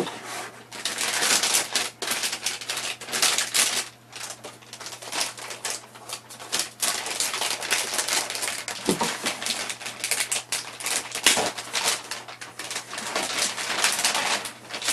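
A laptop, an HP Pavilion DV6z Quad Edition, is pulled from a plastic bag, producing dense, close crinkling and rustling that continues in uneven bursts throughout, with no talking.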